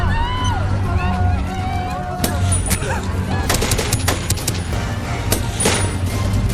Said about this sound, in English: soon a gunfight broke out between them and the Black Mask group